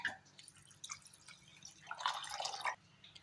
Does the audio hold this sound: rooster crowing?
no